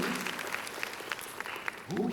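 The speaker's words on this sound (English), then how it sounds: "I want to give another round of applause, actually, for our presenters from this morning." A conference audience gives a round of applause for morning presenters, a steady patter of clapping at moderate distance, with a voice rising over it near the end.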